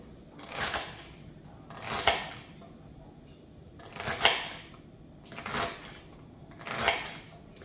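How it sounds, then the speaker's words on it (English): Knife chopping organic celery into very small pieces on a cutting board, five evenly spaced crisp cutting strokes about every second and a half, close and clear with no talking. "I'm cutting my celery in very small pieces"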